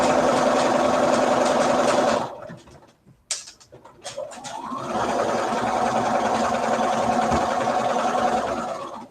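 Sewing machine stitching a quilt: a steady close whirring hum runs for about two seconds, stops for a short pause with a few clicks and small handling noises, then speeds up again into a long continuous run, with no talking.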